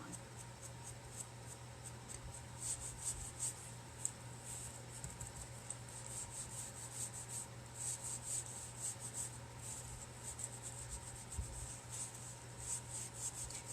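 Stain rubbed onto furniture with a baby wipe, a soft continuous close rubbing and swishing that runs steadily for the whole stretch over a low background hum.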